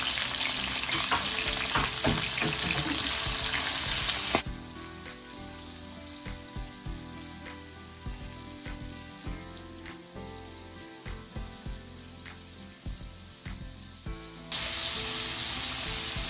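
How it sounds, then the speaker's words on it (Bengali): Strong sizzling of turmeric-salted prawns frying in a pan, dropping to softer crackles and scattered clicks in the middle before the loud sizzle returns. "নুন হলুদ মাখানো চিংড়ি মাছগুলো ফ্রাই প্যানে দিয়ে দিচ্ছে ভাজা করার জন্য"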